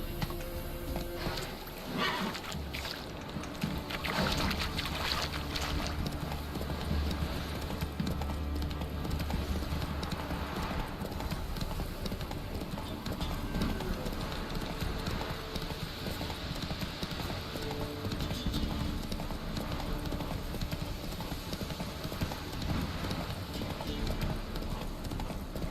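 Hooves of a horse galloping in The Witcher 3 pound in a fast, continuous clip-clop rhythm, mixed with game ambience and a low rumble throughout.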